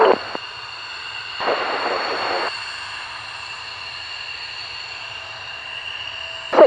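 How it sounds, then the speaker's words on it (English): Aircraft at the Waddington air display, a steady whining drone held throughout with a brief louder roaring swell in the middle and short sharp bursts at the start and end. "let's have more great sounds of aircraft"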